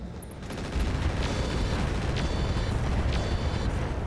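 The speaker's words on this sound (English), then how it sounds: "we see an SRM ammo explosion, along with a bunch of heat sinks" In the RogueTech mech combat game, an SRM ammo explosion erupts into a sustained, dense rumbling blast with a heavy low roar, punctuated by repeated crackling bursts and pops.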